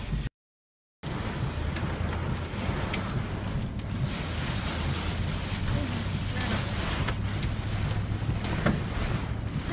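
Rain and hail pelt a car's windows during a nighttime storm chase in Greenville, Illinois, a dense steady drumming with sharp ticks of hailstones, heard from inside the vehicle.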